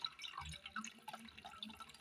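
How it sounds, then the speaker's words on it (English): Water trickles and splashes while being poured into a homemade electric kettle made from waste materials, a faint, uneven liquid pour heard alone at close range. "Right now, I'm pouring water into the kettle, which is the electric kettle I just constructed"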